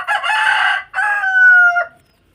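A dual-purpose rooster crows once up close, loud and clear, its call rising and then trailing off into silence, with no voices over it.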